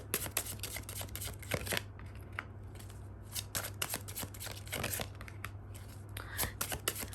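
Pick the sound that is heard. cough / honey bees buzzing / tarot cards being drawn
tarot cards being drawn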